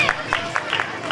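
An audience claps at a children's talent competition at a district Bal Bhavan, a few loose bursts of hands over a short stretch, mixed with crowd chatter and babble.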